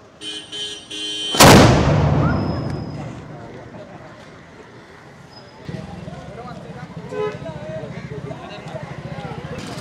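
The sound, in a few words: village cannon being fired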